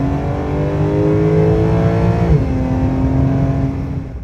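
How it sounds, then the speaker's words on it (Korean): A Porsche 911 turbo engine and exhaust rumble loudly up close, revving upward then dropping to a lower pitch as the gear changes, with no talking. "포르쉐 911은 아무리 터보 엔진을 달았다 하더라도 일반 차에 비해서는 머플러 사운드가 그래도 큰 편이에요"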